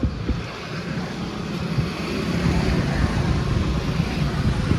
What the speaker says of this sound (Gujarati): મસ્ત ઠંડો ઠંડો પવન આવે છે.